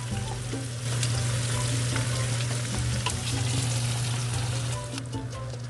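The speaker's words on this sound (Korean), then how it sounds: "삼겹살에서 나온 기름에 피조개 관자살을 올려 함께 구워주고" Ark clam and scallop meat frying in rendered pork belly fat, a steady close sizzle and crackle with a low hum underneath, a few faint clicks and pops, no talk.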